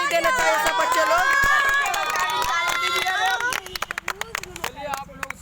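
Children clapping for Kamal Premi, with scattered hand claps breaking out over lively crowd chatter and talk, the claps growing sharper and sparser toward the end.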